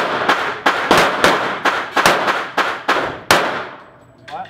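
Gunfire at a shooting range: a rapid series of about nine loud, sharp shots at close range, each followed by a brief ringing decay, with a short quiet tail at the end.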